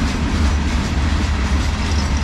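Freight cars of a passing CSX manifest train rumble loudly and steadily nearby, with light clickety-clack from the wheels over the rails.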